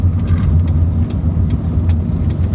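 A turbocharged car engine runs loud and close with a low, throbbing rumble and light throttle blips, small whooshing and fluttering boost noises popping up at irregular intervals.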